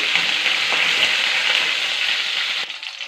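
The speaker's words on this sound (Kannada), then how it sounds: "ಒಣಗಿದ ಮೆಣಸಿನ್ಕಾಯಿ, ಕರಿಬೇವಿನ ಸೊಪ್ಪು ಇದು ಹಾಕ್ಕೊಂಡು ಚೆನ್ನಾಗಿ ಫ್ರೈ ಮಾಡ್ಕೊಳ್ಳಿ" Garlic, dried chillies and curry leaves fry in hot oil with a loud, even sizzle that drops away sharply near the end.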